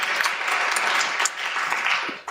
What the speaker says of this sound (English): Give this woman a round of applause.